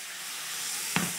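A hot pot deglazed with a little water gives a steady, even steam hiss that builds slightly, with a short sharp spit of sizzle near the end; no talk.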